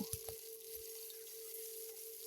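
Hilsa fish steaks, rubbed with turmeric and salt, frying in hot oil in a wok with turnip, giving a quiet, steady sizzle with a few soft crackles near the start.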